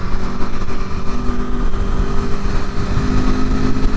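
A 2021 Aprilia Tuono Factory motorcycle, new and still being broken in, downshifts while riding behind a trailer, a loud, close engine drone that rises and falls in pitch over wind rumble.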